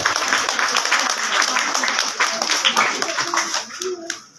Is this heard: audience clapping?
yes